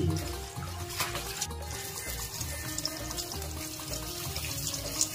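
Water runs steadily from a tap with splashing and soft knocks as produce is rinsed underneath, close by and fairly loud throughout.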